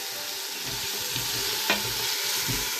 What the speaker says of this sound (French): Regardez, je tourne la viande.